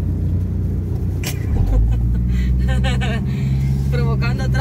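Road traffic with cars passing on a busy street, a steady engine rumble and passing vehicles throughout, with someone talking over the noise.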